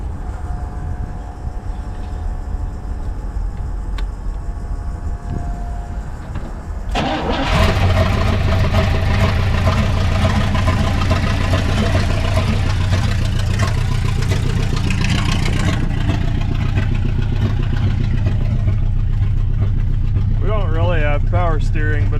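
A 1960 Pontiac Ventura hardtop engine, revived after 24 years, cranks and catches, then runs steadily with a loud, deep, slightly burbling rumble close by; brief quieter sounds precede the start.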